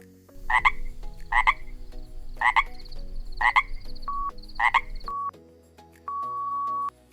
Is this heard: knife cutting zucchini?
no